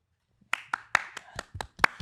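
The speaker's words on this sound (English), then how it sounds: "Please clap." A few people clap in a sparse, uneven burst, about eight distinct close hand claps spaced irregularly after a moment of silence.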